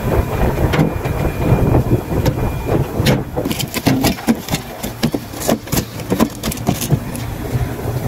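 A Fuji Electric air conditioner's fan motor running, a steady mechanical whir and hum with rattling, clattering bursts and fluctuating noise over it, close and fairly loud.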